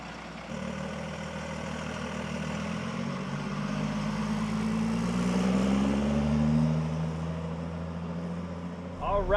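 A 1985 Chevy K30 truck with a Cummins diesel swap pulls away, its low engine drone swelling steadily and rising in pitch as it gets under way, close and moderately loud.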